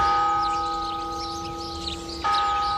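Bells ring from a civic bell tower built in 1612 in Miranda del Castañar, standing apart from the church, giving a sustained ringing hum that holds steady and is briefly struck again near the end.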